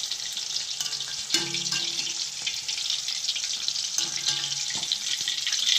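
Octopus pakoda frying in hot oil, a steady close sizzle running throughout, with a couple of brief clinks or stirs of a utensil in the pan.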